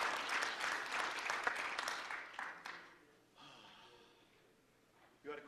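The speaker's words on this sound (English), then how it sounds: "can we another round of applause" An audience at a talk on ruminant agriculture applauds for roughly three seconds, the clapping tapering off into quiet room sounds with some breathing and shuffling near the mic.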